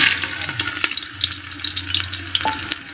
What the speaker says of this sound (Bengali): আর এখন দেবো পেঁয়াজ আর এই যে তেজপাতা দিচ্ছি